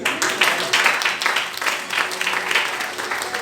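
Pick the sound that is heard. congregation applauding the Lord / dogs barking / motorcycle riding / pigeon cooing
congregation applauding the Lord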